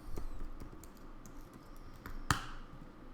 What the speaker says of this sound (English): Here, I'll type it in the chat.